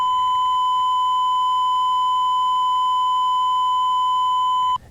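A steady pure 1 kHz test tone holds at constant level for about five seconds, then cuts off abruptly.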